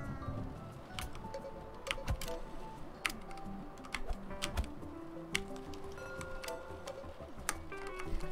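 Computer keyboard keys clatter during a session of the cooking game Cook, Serve, Delicious! 2, a busy irregular run of sharp close clicks and taps with no talk.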